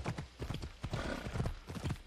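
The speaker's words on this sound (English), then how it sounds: "Horse, stop it!" Horse hooves clip-clop at a gallop in Assassin's Creed Odyssey, a steady rapid rhythm close by, with a short neigh partway through.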